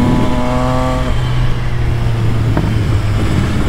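An MV Agusta Brutale 800 motorcycle engine growling steadily while ridden on a wet road, close and loud, its pitch falling as the revs drop and then holding even, with a brief sharp click partway through.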